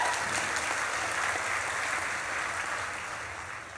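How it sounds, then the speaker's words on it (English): Applause from a commencement audience at the University of Vermont College of Agriculture and Life Sciences celebration, a steady wash of many hands clapping that swells and then slowly fades. "we can give Bernie some claps if we want"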